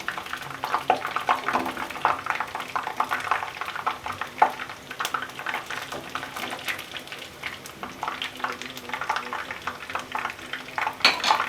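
Sliced onions sizzle steadily in hot oil in a pan for chicken biryani, a dense crackling hiss with frequent sharp pops and occasional stirring clinks throughout, no talk.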